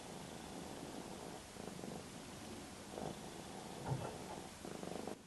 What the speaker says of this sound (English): purring like a babe.